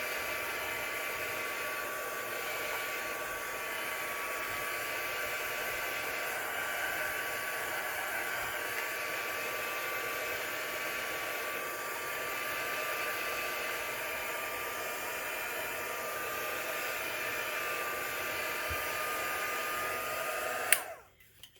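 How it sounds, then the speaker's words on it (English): A craft heat tool blows steadily to dry ink on a card background, a continuous close airy whirring hum that runs unbroken for about twenty seconds before switching off abruptly at the end. "I'm just going to use the heat tool to"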